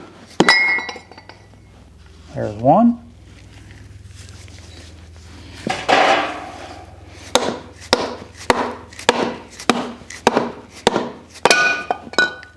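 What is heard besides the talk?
soft-faced hammer knocking end caps off oil cooler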